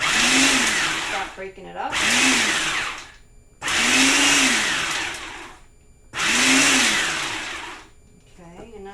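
Food processor pulses pesto ingredients in a kitchen, four loud whirring bursts of about 1.5 seconds each with short pauses between, while a person talks briefly over the machine.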